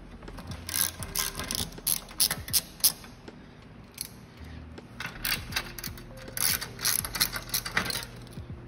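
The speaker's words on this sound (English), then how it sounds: "with your 15mm, you'll just loosen the wheel nuts" A 15mm ratchet wrench loosens the rear wheel nuts on a Gazelle electric bike with an Enviolo 380 trekking hub, giving quiet bursts of rapid, close metallic clicking with brief pauses between strokes.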